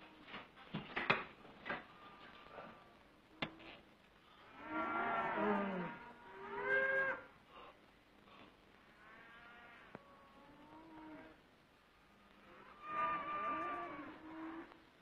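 Cattle moo in a rural field, three long drawn-out lowing calls spaced several seconds apart, heard from a short distance over a quiet background with a few light clicks and knocks.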